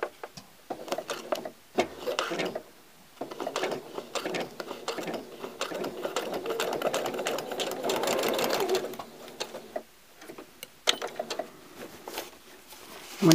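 A sewing machine stitching a quilt binding around an inner corner, rapid mechanical clattering in several runs with brief pauses between them as the fabric is pivoted, close and clear.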